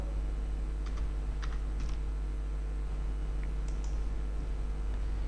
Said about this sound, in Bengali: আমরা গুগলে লিখব sheep calculator with step up.